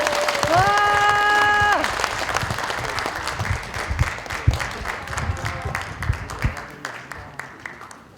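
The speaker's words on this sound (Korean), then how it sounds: "다시 한번 박수 한번 부탁드리겠습니다" An audience at a National Assembly member's constituency report meeting breaks into loud, sustained applause, with a brief high whoop or whistle near the start, then crowd clapping that gradually thins out and fades.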